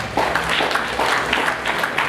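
Clapping from the audience at a Rotaract club of Kampala Central function as the president is received, a steady wash of hands filling the room throughout.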